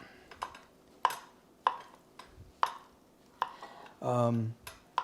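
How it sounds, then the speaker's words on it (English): Knife chopping softened cheese on a cutting board in a home kitchen, a series of about nine sharp, close taps at an uneven steady pace, with a brief voiced sound in the middle. "I'm going to chop it up"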